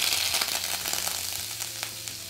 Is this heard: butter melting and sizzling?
yes